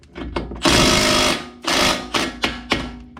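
A bolt on an Audi Q5 subframe twists under an impact wrench and snaps, heard as a loud, close burst of rattling hammering followed by a shorter burst and a few sharp knocks.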